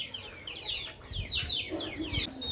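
Chickens on a small farm, kept alongside rabbits and ducks, cluck and squawk close by in a busy string of short, overlapping calls with some low background noise.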